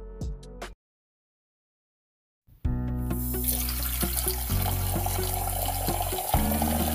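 Tap water gushes into buckets meant for cut flowers. A short clatter and a silent pause give way to a loud, steady rush of water that runs on to the end.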